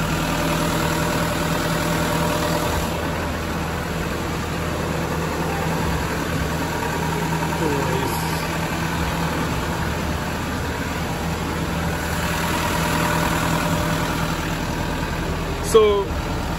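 A 2012 Toyota Toyoace truck's diesel engine idles steadily through a DPF regeneration, a constant mid-low hum with a slight rise near the end and a brief knock just before it finishes.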